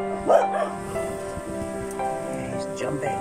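A dog gives a couple of short excited barks and yips amid indoor background noise and people talking at a stray dog shelter in China.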